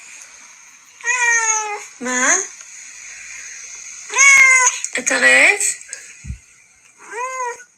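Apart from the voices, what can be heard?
cat meowing repeatedly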